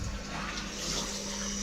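A cold water tap runs steadily in a domestic plumbing job, giving a constant, soft hissing rush of flowing water with no talking.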